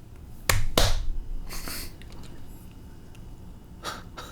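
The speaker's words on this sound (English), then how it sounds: "the bespectacled priest claps his hands again. Whoa. This time he does it twice." Two sharp, close hand claps in quick succession, followed by softer rustling and a faint later tap, without talk.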